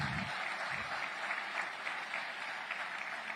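Steady audience applause during a speech by Javier Milei on inflation and public spending in Argentina, a continuous soft wash of clapping heard from a distance without pauses.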